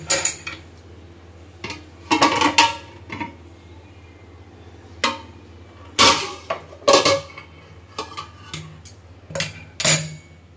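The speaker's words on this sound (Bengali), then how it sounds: "সো আমাদের বিরিয়ানি তো রেডি হয়ে গেছে, এবার ঢাকাটা খোলা যাক" Metal pots and lids clank and scrape while a homemade mutton biryani pot is uncovered, sharp separate clatters and knocks spread over a quiet background with a low steady hum.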